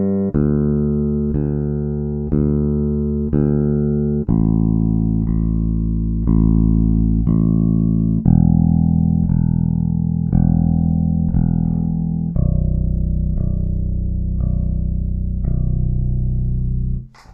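A bass guitar string plucked repeatedly, each deep note ringing out and decaying before the next, stepping down in pitch, with no talking.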